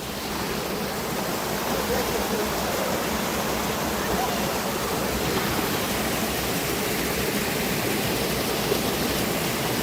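A mountain stream rushes steadily nearby, a dense broadband wash of flowing water that stays loud and unbroken throughout.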